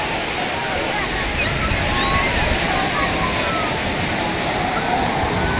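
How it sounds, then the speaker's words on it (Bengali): Sea waves break and wash up onto the sand at Cox's Bazar beach in a loud, continuous roar of surf and foam that persists throughout without pause. "প্রতি 10 সেকেন্ড পর পর একটা করে ঢেউ আসছে।"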